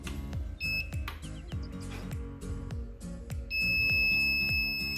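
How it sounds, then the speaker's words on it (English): A fingerprint electronic voting system built on an Arduino Uno with an R307 sensor sounds a buzzing electronic alarm on detecting a repeat voter, short tones at first, then a steady sustained alarm near the end over a constant machine hum. "the system detected that he has already voted and given an alarm"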